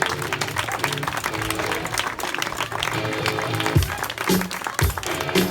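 Applause for a triathlon finisher at the Valbonnais race, continuous clapping from a crowd under a voice on a loudspeaker, with music in the background.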